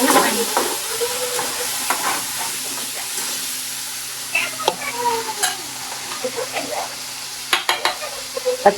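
Potatoes and chillies sizzle and fry in a pan, with a steady hiss and crackle broken by sharp clatters of stirring and a few loud bursts near the end; no talking.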